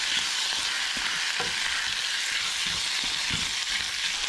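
Onion, apple and beets sauté in a pan, a steady loud sizzle with faint stirring scrapes running the whole time and no talk.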